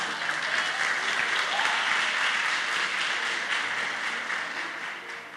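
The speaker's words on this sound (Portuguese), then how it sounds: "Aplauda Jesus." A church congregation applauds during a worship service, a dense, even roar of many hands clapping that fills the space and fades slightly toward the end, with no talking over it.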